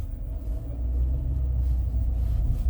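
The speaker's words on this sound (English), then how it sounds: "this car is very loud and you could hear the noise, the cabin noise" Loud cabin noise inside a Chevrolet Spark while driving, a heavy continuous low road and engine rumble that swells slightly and holds steady, with no talking.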